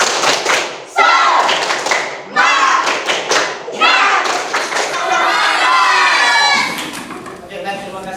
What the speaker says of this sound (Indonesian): Kalau begitu, ayo kita tepuk semangat.